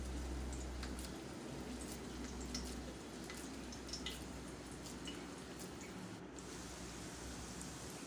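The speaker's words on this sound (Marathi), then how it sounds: "छान असे ब्राऊन कलरचे होईपर्यंत तळून घ्यायचे आहेत आणि मंद आचेवरच तळायचे आहेत" Chana dal vadas fry in oil over a low flame, giving a soft, steady sizzle with scattered tiny pops and crackles throughout.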